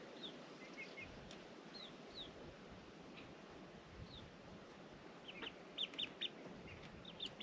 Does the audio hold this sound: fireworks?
no